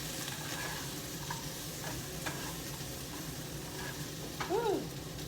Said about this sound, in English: I can smell these peppers. They're cooking.